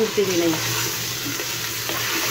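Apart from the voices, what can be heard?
stirring beef mince (keema) in a pan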